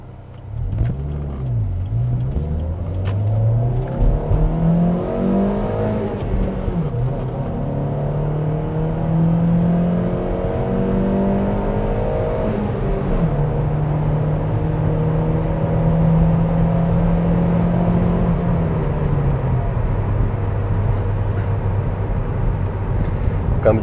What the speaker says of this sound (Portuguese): Vamos começar com uma aceleração de 0 a 100.